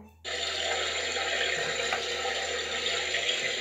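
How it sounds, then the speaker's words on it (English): Running water pours steadily from a tap to rinse soap off during a bath, a close continuous splash that starts abruptly and holds without talk. "you can sit up and I will rinse the soap off"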